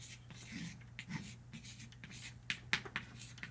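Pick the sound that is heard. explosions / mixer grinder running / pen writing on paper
pen writing on paper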